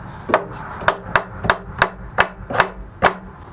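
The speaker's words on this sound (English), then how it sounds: "Sometimes you just got to tweak the alignment a little bit with a hammer." Eight sharp hammer taps on wood, fairly evenly spaced and close up, each a crisp knock with a short ring.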